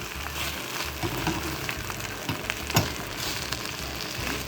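Potato and onion squares fry in a pan with a steady crackling sizzle, broken by a few scraping clicks as a spatula lifts and flips them; close, moderate level, no talk.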